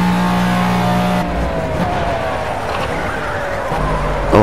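A V12 race car engine in Project CARS drones and shifts pitch as it revs, steady and loud, with tire noise and rumble underneath.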